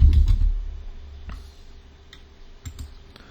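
A computer keyboard being typed on in short scattered bursts of light clicks, sparse and quiet after a low thump at the start, with no talk.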